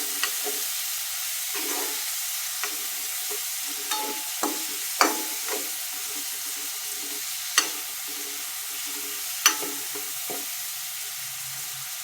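Green country tomatoes and spinach fry in a pan for a Sholebhaji vegetable dish, a steady sizzle running throughout with a handful of sharp stirring scrapes and clacks spaced across it, close and moderately loud, with no talking.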